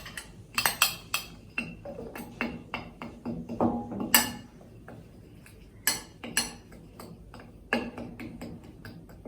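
Spoon stirring mung salad in a bowl, a string of irregular light clinks and scrapes against the bowl, some quick and clustered, others spaced apart, close and fairly clear with no talking.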